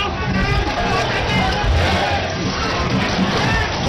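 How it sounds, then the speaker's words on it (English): A large crowd chanting Bharat Mata Ki Jai and Vande Mataram at a national ceremony in India, a steady loud roar of many voices blending together without pause. "The crowds chanting Bharat Mata Ki Jai and Vande Mataram."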